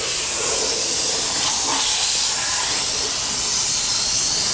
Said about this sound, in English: get a blower, and we're going to put it in the hole and blow any dirt and debris out